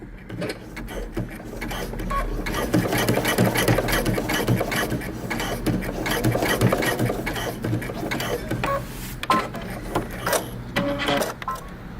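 A sewing machine top stitching through all thicknesses of denim at the crotch of a pair of jeans, running in a steady, continuous mechanical whir close by with brief pauses near the end.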